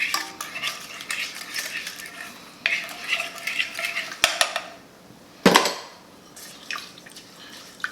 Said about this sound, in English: Let's give that a big mix.